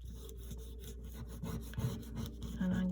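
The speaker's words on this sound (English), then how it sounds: "And I'm just burnishing this" A fingernail burnishing paper on a book page, soft close rubbing strokes in short repeated passes, quiet and dry, with a few slightly firmer rubs toward the end.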